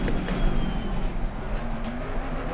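Mustang race car in the racing game Assetto Corsa Competizione, its engine a loud, continuous close drone with a rough, throaty texture throughout.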